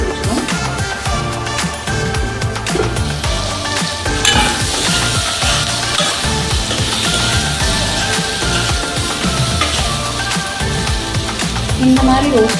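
Brinjal (eggplant) pieces fry and roast in a pan, giving a loud, continuous close sizzle broken by scraping stirs, with a voice speaking now and then over the cooking.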